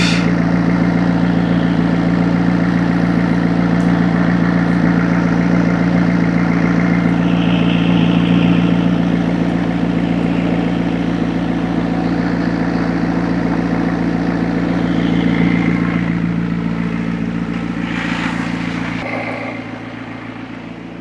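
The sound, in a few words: McLaren engine idling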